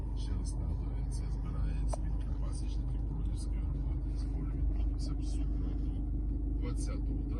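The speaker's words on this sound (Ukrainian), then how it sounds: "це є двигун двохлітровий на 110 кВт, потужний" A 2015 Volkswagen Passat B8 with a 2.0-litre 110 kW diesel and automatic gearbox idles in a steady, even low rumble, with climate control running and someone talking over it throughout.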